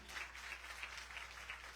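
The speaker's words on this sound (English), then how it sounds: "Clap. Let me hear." An audience claps at a Ganesh Utsav temple celebration, steady applause sounding distant and faint throughout.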